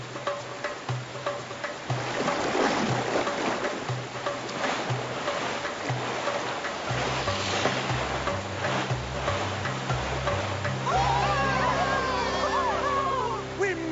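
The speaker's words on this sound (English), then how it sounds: "Rapids ahead. Hang on to your tail feathers." A cartoon boat rushes through river rapids, a steady loud roar of churning water and hull noise running throughout under music and spoken dialogue.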